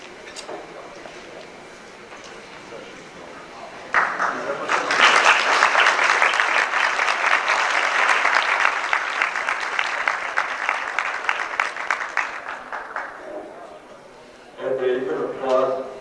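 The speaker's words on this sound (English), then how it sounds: "And you can applaud he who gets to introduce you." An audience at a tribute dinner applauds an honored guest, a steady wash of clapping that swells after a few seconds of quieter murmur, then fades before a voice speaks near the end.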